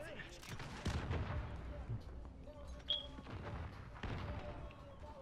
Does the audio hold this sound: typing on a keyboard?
no